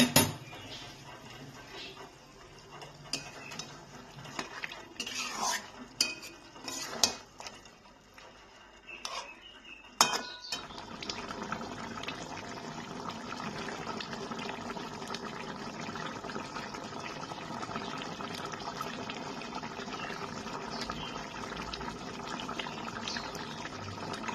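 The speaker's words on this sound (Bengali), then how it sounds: "এইবার আমি এর মধ্যে সামান্য একটু জল দিয়ে দিচ্ছি।" Pre-heated water is poured into a simmering Bhetki fish-head and bone curry after a stretch of clanking pots and utensils; a sudden clatter of the lid follows, then a steady bubbling simmer, close and moderately quiet.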